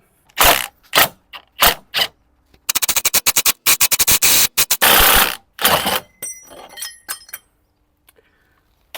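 Bursts of ratcheting clicks come from a ratchet removing bolts on an Audi A5 3.0 TDI, in short separate runs and then a long rapid stretch, followed by a few metallic clinks.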